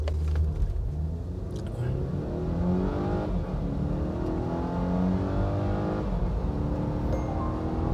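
A Volvo S90 T5 sedan launches hard from a standstill toward 100 km/h, its engine note climbing steadily through a rising rev sweep with a brief shift dip, loud and close from inside the cabin.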